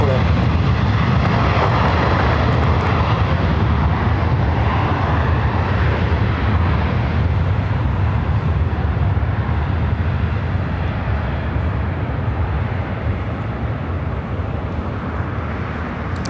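Aircraft engines roar at an airport runway, a loud, continuous, broad rumble that holds steady for the whole stretch and fades only slightly near the end, with no pauses.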